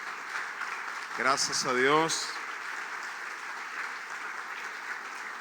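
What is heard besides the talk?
applause for the Lord in church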